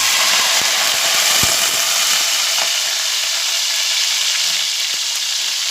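Chopped onion with curry leaves fries in hot sunflower oil, making a loud, dense, unbroken sizzle with a few faint knocks of a spoon against the pan.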